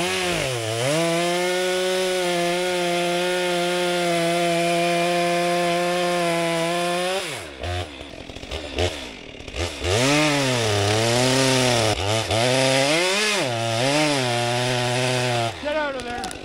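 STIHL 261 and 462 chainsaws felling trees in spring, engine droning steadily near and loud, then revving up and down in repeated surges as the chain cuts through wood.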